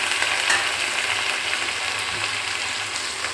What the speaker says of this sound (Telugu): ఆయిల్ హీట్ అయిన తర్వాత కట్ చేసి పెట్టుకున్న బెండకాయలను కూడా వేసేస్తుంది